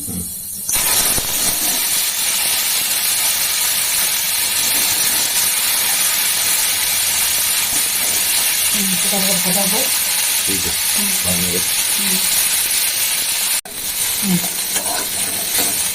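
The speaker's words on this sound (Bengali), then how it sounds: "পটলটাকে ভেজে নেবো অল্প করে ভেজে নেবো একটু কালো জিরে দিয়ে ভেজে নেবো" Pointed gourd fries with black cumin and green chili in hot oil, making a loud, steady, close hiss that runs throughout, with a few brief stretches of a voice beneath it.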